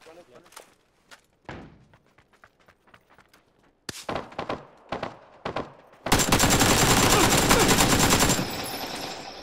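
Gunfire crackles through a video game match: scattered single shots and short bursts, then a dense, loud sustained volley near the end, with voices talking over parts of it.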